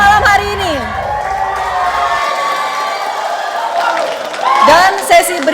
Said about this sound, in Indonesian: tepuk tangan yang meriah untuk ketiga pasangan calon malam hari ini